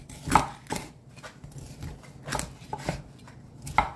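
A knife chops through crispy roast lechon on a board for sisig, giving a series of sharp, crunchy thuds at an uneven pace, close and fairly loud with no talk.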